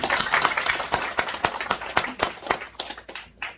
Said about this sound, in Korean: 정보를 주신 분에게 감사의 박수 한번 드립니다.